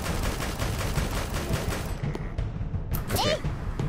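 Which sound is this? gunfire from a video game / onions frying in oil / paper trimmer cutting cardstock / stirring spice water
gunfire from a video game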